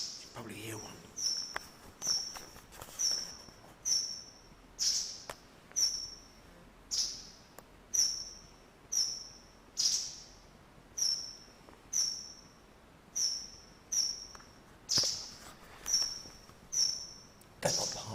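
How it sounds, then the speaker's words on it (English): Small birds flying loose inside an exhibition hall in Iceland give sharp, high chirps roughly once a second, each followed by a faint flutter, sounding fairly near and repeating steadily through a quiet room. "there's birds in here. You can probably hear one."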